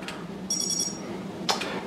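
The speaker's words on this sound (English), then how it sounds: "The first two beeps tells you that it's recognizing the rotation" A Castle Creations multi-rotor ESC gives a short run of high electronic beeps confirming motor rotation, a quick pulsing burst, followed a moment later by a brief sharper tone, over a low steady hum.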